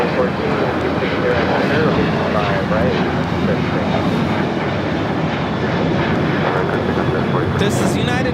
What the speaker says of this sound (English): This is United Airlines 797 taking off to Los Cabos on 737-800.